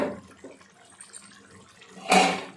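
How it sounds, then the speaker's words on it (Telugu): Faint room sounds, then a short, loud splash of water poured into a pot of masala for chicken curry near the end. "ఇంకొంచెం నీళ్ళు కూడా పోసేసుకుందాం"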